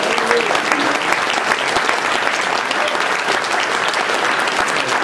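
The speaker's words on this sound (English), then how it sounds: "Now let's give him a clap offering." Church congregation gives a sustained clap offering during a worship service, dense steady applause filling the room for the full stretch at even loudness.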